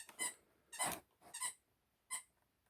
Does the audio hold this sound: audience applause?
no